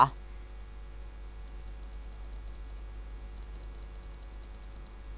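Faint mouse clicks sound while playing modded Minecraft on a computer: a few soft, sparse ticks over a steady low hum.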